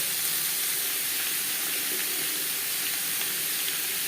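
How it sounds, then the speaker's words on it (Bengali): Papaya and masoor dal being mixed into a hot tempering in a pan give a steady, loud, broadband sizzle and hiss with no pauses and no voices. "ফোড়নের বেশ ভালো করে মিক্স করে দেব"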